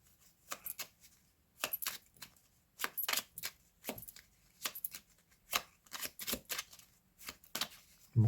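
Tarot cards being shuffled and drawn, a series of short crisp flicks and slaps arriving in irregular bursts, close and fairly loud against a quiet background, with no talking.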